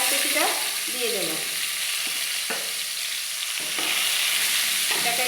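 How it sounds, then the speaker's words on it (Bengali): Chopped onion frying in hot oil in a wok, a steady close sizzle with a few scraping stirs and clinks throughout, no talking. "তেল গরম হয়ে গেছে, এবার আমি পেঁয়াজ কুচিটা দিয়ে দেব।"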